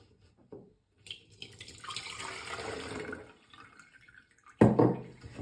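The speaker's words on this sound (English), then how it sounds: "we will strain the lavender into a jar" Lavender soaked in alcohol is strained into a jar, with liquid pouring and trickling in a running stream, then a louder splash and clink near the end.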